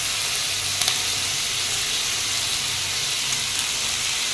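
Garlic and onion fry in a pan for a Khandeshi shev bhaji, giving a steady, loud, close sizzle and hiss with a few faint pops and no voices.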